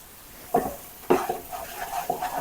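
A spoon scrapes and clinks around a pot of dal dumpling curry in a few separate strokes, close by, with a soft bubbling or sizzling underneath and no talking.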